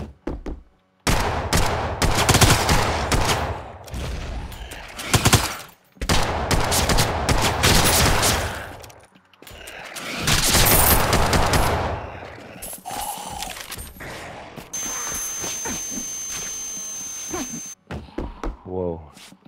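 Video game gunfire, including a shotgun, comes in dense, loud bursts of rapid shots separated by short silences, with a quieter passage and a sustained tone near the end.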